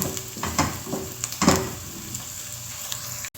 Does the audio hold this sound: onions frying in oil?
yes